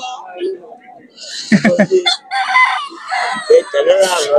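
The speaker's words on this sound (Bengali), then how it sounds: "এই পাশে দেখতেছি কাকা দেশি মুরগি নিয়ে বসেছে" Native village chickens at a duck and chicken market in Bhaitkandi cluck and crow loudly and close by, with sharp bursts and calls as people talk in the busy market.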